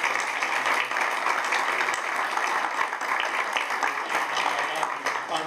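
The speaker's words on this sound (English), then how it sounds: "I'd like for the chamber itself, the board, and its staff to get a round of applause as well." An audience at a legislative summit breakfast claps for the chamber of commerce board and staff, a continuous, even round of applause with scattered distinct claps, steady in level throughout.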